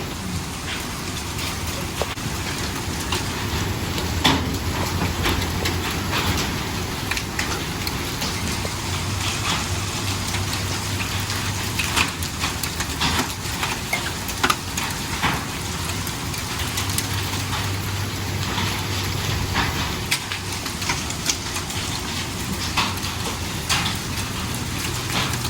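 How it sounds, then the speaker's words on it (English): Heavy hail pours down steadily outdoors, a dense continuous hiss of pelting ice with scattered sharper impacts throughout, loud and close with no voices. "There's just a lot of hail coming down right now"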